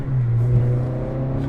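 The engine of a 2023 Acura Integra holding a steady, loud, droning hum near redline, close and unbroken throughout.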